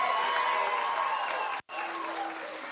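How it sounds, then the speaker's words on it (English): Audience applause at a wedding toast, steady clapping that breaks off sharply for an instant and then resumes at a slightly lower level. "Give her a hand of applause."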